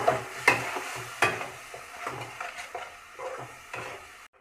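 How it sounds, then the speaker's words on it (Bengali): A coconut, onion and ginger paste masala fries in a pan, with a soft sizzle under periodic scraping strokes of a spoon stirring it, close and moderately loud, then cutting off abruptly. "এটাকে আমি লাল লাল করে ভেজে নেব, মশলাটাকে কষিয়ে নেব আর কি।"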